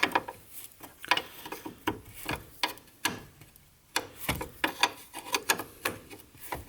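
Door hinge bolts being loosened on a classic Jaguar during restoration, a close ratchet clicking in quick rhythmic bursts with short pauses between turns.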